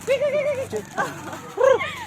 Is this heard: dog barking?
yes